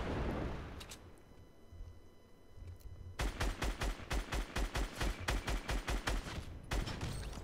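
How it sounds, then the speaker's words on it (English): Rapid bursts of gunfire in Fortnite, a steady stream of loud repeated shots firing in quick rhythm after a quieter stretch, with no talking. "Are they shooting each other?"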